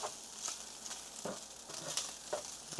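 Onions softening over medium-low heat in a pan for hamburger gravy, giving a quiet, steady sizzle with soft scraping stir strokes and faint pops, no voices over it.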